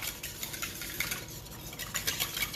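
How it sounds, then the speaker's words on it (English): Milk being whisked into a mixture in a bowl makes soft, rapid scraping and swishing strokes in an uneven rhythm, fairly quiet and close. "And whisk that in."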